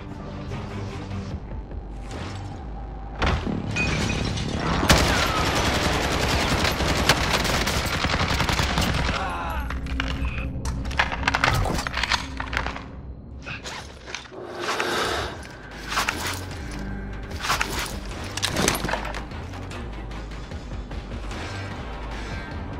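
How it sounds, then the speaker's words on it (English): Heavy barrage of precision airstrike explosions and rattling gunfire in Call of Duty: Modern Warfare, dense and loud for several seconds, then tapering into scattered sharp blasts and crackles with no talk. "Precision airstrike, take cover!"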